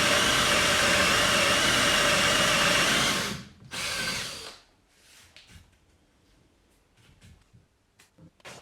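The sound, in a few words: electric drill drilling wood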